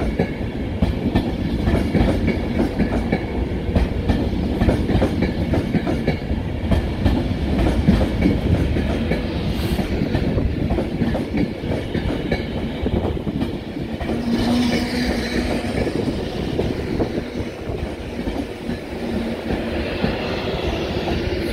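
A London Euston to Glasgow train rolls into a station platform with a steady rumble and rhythmic wheel clatter, loud and close, with faint squeals near the end.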